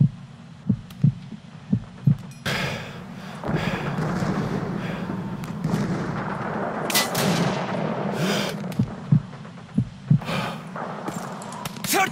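A sniper rifle shot in the World War II shooter Call of Duty 2 during a Stalingrad battle, muffled booming impacts and a dull throbbing rumble with sharp percussive pops at the start and end, loud and close.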